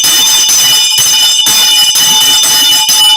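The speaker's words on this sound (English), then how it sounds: "Sometimes we even ring a bell like tonight." A bell or alarm-like ringing holds steady and loud for the whole stretch at a lively bar or club night, a continuous bright electric tone broken by brief dips with no talk over it.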